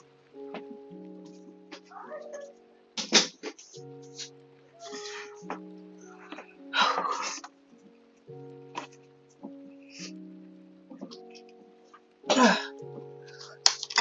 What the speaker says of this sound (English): I apologize for any coughing you hear